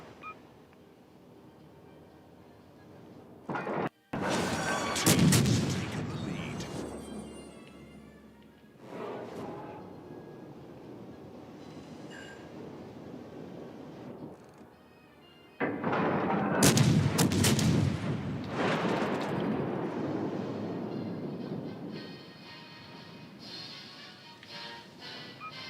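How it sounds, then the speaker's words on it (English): Naval gunfire in World of Warships comes as two heavy, booming salvos that each roll out and fade slowly, separated by quieter ship ambience. Nobody talks. "Guidey, you're getting a bit brave opening fire on a Pensacola."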